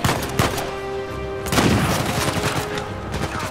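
Shotgun fire during a gunfight in the video game Uncharted 4, a dense run of booming blasts and crackling shots overlapping with little pause, loud and close.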